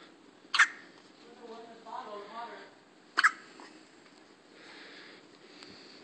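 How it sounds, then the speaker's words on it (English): A baby hiccups twice, about three seconds apart, each a short, sharp little gulp, while an adult speaks softly nearby in a quiet room. "Videotaping her hiccups."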